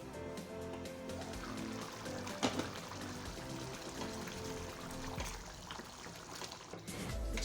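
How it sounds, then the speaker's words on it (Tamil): Water is added to chicken gravy in a pan, a soft steady pouring and trickling over a busy kitchen background, low and continuous, with no talk. "இப்போ கொஞ்சமாக தண்ணி ஆட் பண்ணிக்கலாம்."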